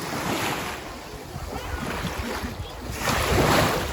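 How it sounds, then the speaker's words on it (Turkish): Sea waves surge and wash onto a beach in a steady roar, swelling louder near the end, with wind buffeting the microphone. "çok dalga var bugün denizde."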